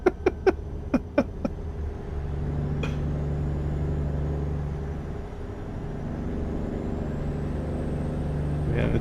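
Automatic Peterbilt 389 truck in American Truck Simulator, a steady low engine drone held throughout, opening with a few quick sharp clicks.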